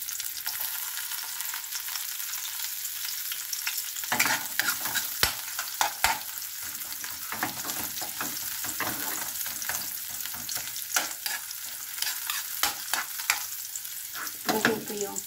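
Onions sautéing in a pan for ginisang monggo, a steady soft sizzle of frying with intermittent scrapes and clinks of a spoon stirring, close and moderately quiet, no talking.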